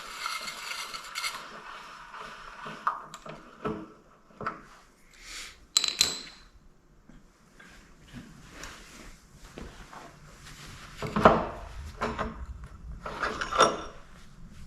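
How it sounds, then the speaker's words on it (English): Metal clicks, scrapes and knocks come from the front axle as it is worked out of a Suzuki Marauder GZ250 motorcycle wheel, with scattered handling noises and louder clunks near the end. "So we're going to pull this axle all the way out."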